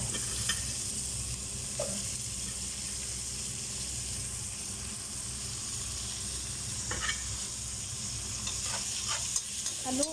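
Vegetables with ginger are stirred in a sizzling pan for Ilocano dinengdeng, a steady close frying hiss broken by a few light utensil clinks.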